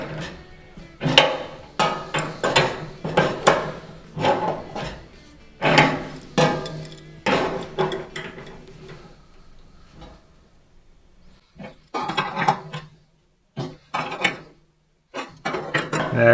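Gas pipe fitting on an LG gas dryer being tightened with a wrench, giving a run of close metallic ratcheting and clicking bursts in quick, uneven groups, with a few brief pauses between them.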